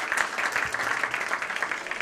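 Concert audience at India Habitat Centre applauds to welcome a vocalist, a brisk, moderately loud patter of many hands clapping continuously without speech.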